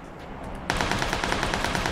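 Rapid automatic gunfire in the video game PUBG Lite breaks out suddenly after a moment of quiet, a loud, close stream of evenly spaced shots.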